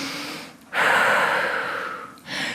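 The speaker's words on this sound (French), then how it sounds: "Grande respiration à la fin," At the end of a yoga crow pose, a person takes a deep, audible breath: a short inhale, then a long, loud breathy exhale, followed by another softer breath close to the microphone.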